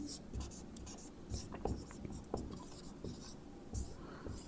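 Chalk or marker writing on a board during a physics lesson, a series of quick close scratchy strokes and taps in an irregular rhythm, with someone speaking at times.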